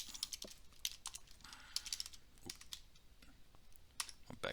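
Rapid clicks of a computer keyboard being typed on, with repeated backspace presses, come in quick irregular bursts, close but quiet, with no speech.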